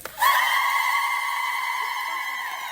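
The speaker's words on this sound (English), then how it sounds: "we heard the Strutter yell and it's very high pitched" A dance team's Strutter yell rings out as a loud, sustained, very high-pitched group cry that swells in quickly and holds steady for over two seconds, with no talking over it.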